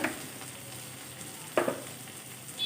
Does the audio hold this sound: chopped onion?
yes